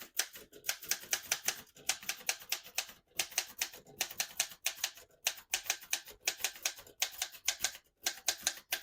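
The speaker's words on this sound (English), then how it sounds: "I'll type a sentence on the next line" Rapid clacking keystrokes of a 1941 Remington De Luxe Model 5 portable manual typewriter, close and crisp, in quick bursts with brief pauses between.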